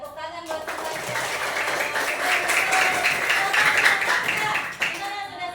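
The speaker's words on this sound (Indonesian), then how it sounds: "Oke, tepuk tangan buat semuanya." Students clapping together in a classroom for everyone: brief speech, then a dense burst of hand claps swelling and holding for several seconds before fading, with chatter underneath.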